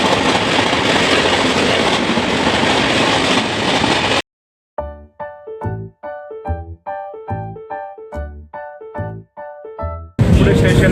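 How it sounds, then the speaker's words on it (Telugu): A train pulls into a railway station with a loud rumble, then a rhythmic run of clattering wheel clacks over the rails, and the heavy rolling noise returns at the end. "ఇప్పుడే స్టేషన్లోకి ట్రైన్ వచ్చింది"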